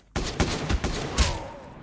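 A quick burst of several gunshots from a weapon in a video game, loud and close, fired in a short rapid volley lasting under two seconds.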